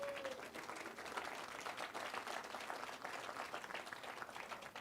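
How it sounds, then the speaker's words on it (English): An audience applauds at a nursing school white coat ceremony, a dense, steady wash of clapping that fills the room for several seconds with no pause. "Please give them all a round of applause."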